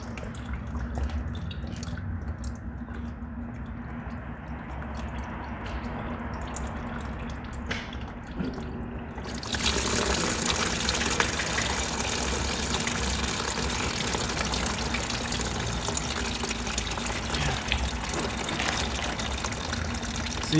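Coolant drains from a car's cooling system during a flush, a steady liquid trickle and dribble that swells into a louder, fuller gush partway through once the top cap is undone, with a low engine-bay hum beneath.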